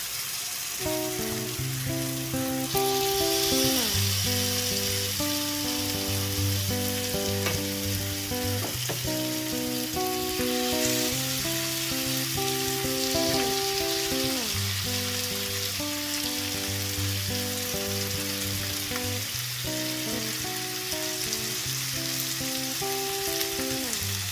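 Masala-marinated prawns frying in a pan for a roast, a steady loud sizzle throughout, with repeated rhythmic clinks and scrapes of stirring over it and no talking.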